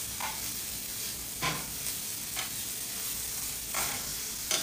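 Meatballs sear in a pan for a red-sauce dinner, a steady faint sizzle running throughout with a few soft stirring or scraping bursts spaced across it.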